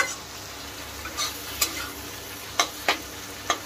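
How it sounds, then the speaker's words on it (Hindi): Masala with tomatoes and peas frying in a pan for matar paneer, a low steady sizzle with occasional sharp taps and scrapes of the spoon, fairly quiet overall. "इसको अच्छी तरीके से एकदम फ्राई कर लेते हैं, टमाटर को भी गला लेते हैं।"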